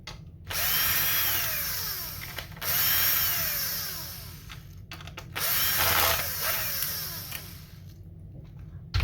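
A power screwdriver backs screws out of an Xbox Series S console in three loud, whirring bursts with rising and falling pitch, close up, separated by short pauses, no talking.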